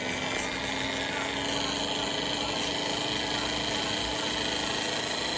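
A small battery-powered toy race car motor whirs continuously at a steady high buzz, close and loud, with a faint constant hum underneath.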